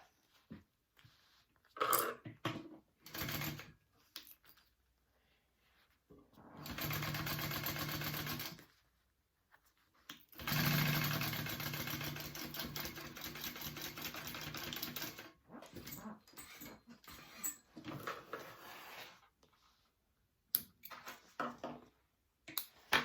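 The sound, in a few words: sewing machine stitching onto a handbag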